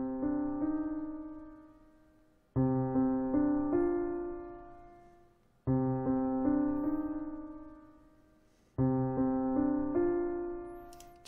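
Soft, melancholic instrumental music, a theme from the video game Silent Hill 2, plays alone at low volume as four sustained, bell-like chord phrases, each slowly fading before the next begins.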